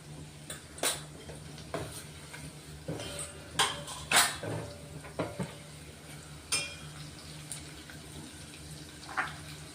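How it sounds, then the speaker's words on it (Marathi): Ground garlic-chili paste being sautéed in a pan, with a spatula scraping and clinking against the metal in scattered strokes over a faint sizzle, close and moderately loud, without talk. "ते परतून घेऊ आता ह्याच्यात।"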